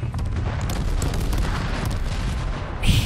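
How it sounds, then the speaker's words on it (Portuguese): Bomb explosions in the battle-royale game H1Z1: a continuous rumbling barrage of booms and blasts, dense and steady throughout, with a sharper burst near the end. "Mais bomba."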